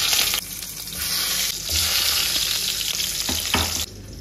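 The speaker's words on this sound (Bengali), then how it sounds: "এখানে তেল আমার গরম হয়ে গেছে, দেখো আমি এবার এই পটলগুলো একটা একটা করে দিয়ে দিচ্ছি" Pieces of pointed gourd (potol) dropped one by one into hot oil, hissing and sizzling steadily throughout, with a few sharper spits as each piece lands; close and fairly loud, no talk.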